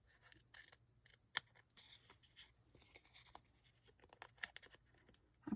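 Scissors trim paper scraps into Christmas gift tags, a series of quiet, close, crisp snips and rustles in an irregular rhythm, without talk.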